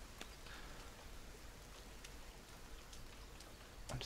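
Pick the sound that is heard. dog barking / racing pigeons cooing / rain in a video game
rain in a video game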